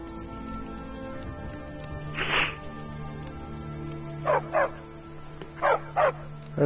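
A dog barks in the Skyrim video game, giving one bark and then two pairs of quick yips over a steady low background hum.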